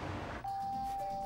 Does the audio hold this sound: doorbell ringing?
yes